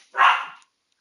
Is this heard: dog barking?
yes